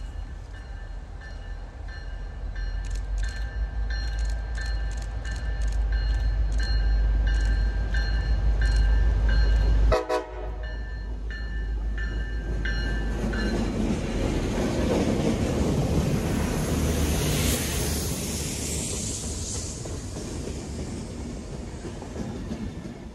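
An MBTA locomotive-hauled train rolls past loudly with rhythmic clickety-clack from the wheels and a heavy engine drone, then fades into a rushing, windy rumble as it moves away.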